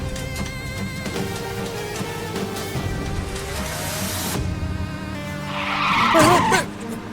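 A car skidding past on a road, a rumbling engine building to a sharp screech of tires near the end, with background music underneath.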